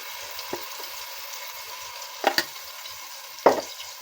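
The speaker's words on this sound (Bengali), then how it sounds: "এগুলো একটু ভেজে নেব, তারপর অন্য মশলাগুলো মেশাবো।" Garlic and ginger paste, with cumin paste, frying in a pan for biryani: a low, steady sizzle broken by a few sharp spoon scrapes, close by.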